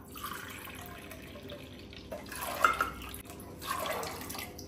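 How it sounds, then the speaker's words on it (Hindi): Water poured from a measuring cup into a pressure cooker holding soaked peas for ghugni, two soft bursts of pouring and splashing with a quiet pause between them. "मेजरमेंट कप से 3 कप पानी डाल देंगे"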